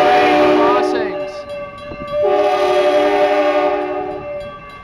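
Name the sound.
train horn at crossings in Eugene, Oregon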